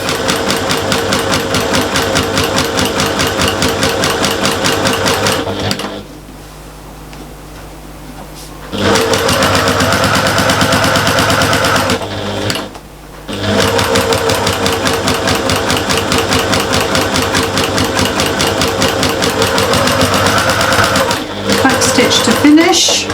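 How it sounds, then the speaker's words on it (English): Domestic sewing machine running in long steady bursts while stitching a fabric shopper bag around a curve, loud and close, with a few short pauses and brief handling sounds between runs. "Little back stitch to start, and then just work your way around"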